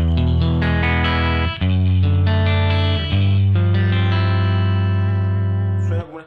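An electric guitar plays through the clean patch of a Yamaha DG1000 amplifier, sustained chords and single notes ringing loud and full with a slight shimmer, one pause midway, ending with a decay.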